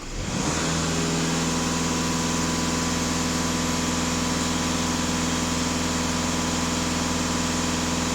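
A Volkswagen Passat B8 with the EA288 diesel engine holds a steady raised-rev drone, a constant close mechanical hum with no voices throughout.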